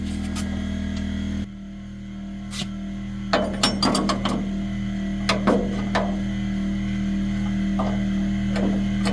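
A wrench works a bolt on a Chevrolet C10 being lowered, giving irregular metallic clicks and ratcheting taps over a steady low electrical hum, close and fairly loud with no talking.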